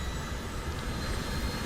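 The engine of a Eurocopter Tiger helicopter runs in the Second Life video game, a loud, steady, broadband rumbling roar with no pauses and no talk over it.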